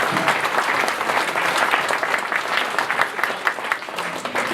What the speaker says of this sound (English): Let's give a round of applause for our volunteers and community support